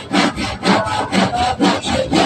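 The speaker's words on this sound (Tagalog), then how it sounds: "May nag-chainsaw." A loud chainsaw rasps back and forth in steady strokes, close up, with a rough buzzing grind on each pass and no talking.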